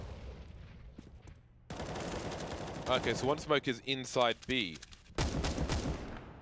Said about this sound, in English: That's the sound of my auto sniper.